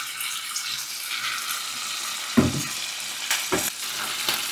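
Sake, mirin and soy sauce are stirred together in a pan, making a faint, steady sizzle broken by a few short scraping clinks of the utensil against the pan.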